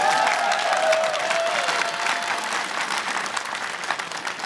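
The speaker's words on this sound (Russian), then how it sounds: "можете авансом превентивно хлопать" A theatre audience at a presentation of a new Russian film applauds steadily and loudly for the whole stretch, a full, even wash of clapping with a faint crowd murmur underneath.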